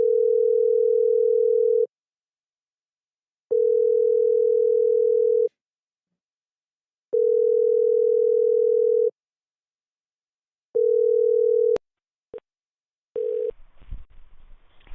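A telephone line gives a repeating steady tone in four long beeps with gaps while a support number is dialed, followed by brief clicks and a connection noise.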